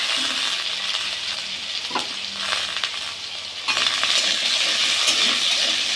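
Potato pieces frying in hot oil after browned garlic, while making red amaranth leaf fry in a Bengali home kitchen: a steady close sizzle with scattered clinks and stirring scrapes, no voices.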